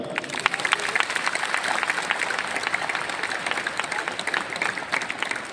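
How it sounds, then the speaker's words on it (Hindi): Loud, dense applause from an audience gathered at Lumbini, the Buddha's birthplace, sustained and even with sharp individual claps standing out across the whole stretch. "आप सभी के लिए जोरदार तालियां"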